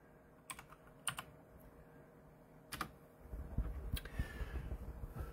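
A few sharp clicks of typing on a computer keyboard, sparse and quiet, with some low rumbling handling noise in the latter half.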